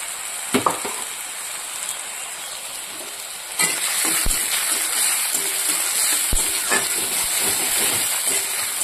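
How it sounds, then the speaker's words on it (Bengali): Onions fry lightly in a pan with salt and turmeric, a steady close sizzle and hiss that grows louder partway through, with occasional stirring clinks. "পেঁয়াজটা হালকা করে ভেজে নেব, বেশি কাড়া করে ভাজবো না।"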